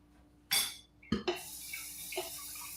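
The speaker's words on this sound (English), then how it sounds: "I have my French press here. French press. I need to rinse that up." Water splashing briefly into a French press carafe during a quick rinse at a sink, a short burst followed by a couple of smaller splashes and clinks, fairly close.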